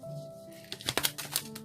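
A brief flutter and riffle of tarot cards being shuffled, a quick burst of crisp papery clicks after a moment of near silence.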